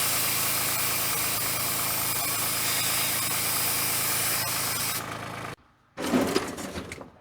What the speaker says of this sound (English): I'm going to leave the tractor just idling so I can keep the hydraulic pressure up.